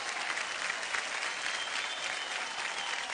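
An audience applauds steadily during a cheque presentation on stage, a continuous, evenly dense wash of many hands clapping with no voices over it.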